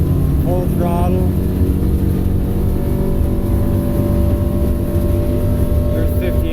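A 2020 North River 21-foot Fastback boat runs at full throttle against the current, its engine giving a loud, steady drone that holds throughout, with constant wind and water noise. A voice speaks briefly near the start.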